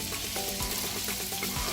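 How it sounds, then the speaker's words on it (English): Diced apples sizzle and fry in browned butter on very low heat, a steady close crackle with soft stirring bumps and no talk over it. "to this we're going to add our apples, which I have already diced up"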